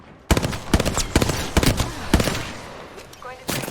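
Bursts of automatic gunfire in a squad-based shooter video game, several rapid volleys in close succession, loud and near, with a player talking over the shots.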